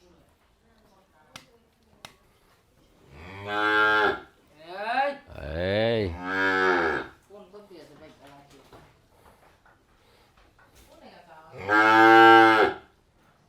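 Cows and calves on a village farm, with several long, close moos from a large cow, two or three in a row and another later, between a few sharp clicks and a brief spoken word.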